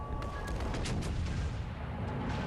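Warship guns firing rounds in a World of Warships Legends naval battle, with dense rumbling booms and a few sharp cracks of secondary guns over a constant loud low roar, without speech.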